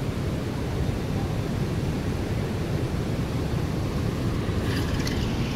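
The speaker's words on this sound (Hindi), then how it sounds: "ये पहाड़ों में हो रही है जम के बारिश।" Heavy rain pouring down in the mountains of Himachal Pradesh, a dense, steady broadband hiss with no pauses, loud and close throughout.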